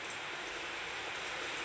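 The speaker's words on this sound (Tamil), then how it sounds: "வெள்ள மழை எப்படி பிச்சு உதறது பாரு" Heavy rain pours down as a continuous, even hiss that stays fairly faint and fills the whole short stretch without a break or voice.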